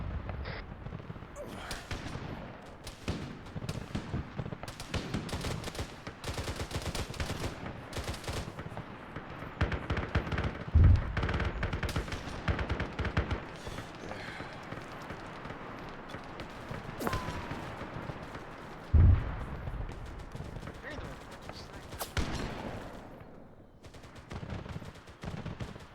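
Gunfire in a military video game: rapid bursts of rifle and machine-gun shots crack close and sharp, with heavier booms at intervals, continuing densely throughout, while voices speak intermittently underneath.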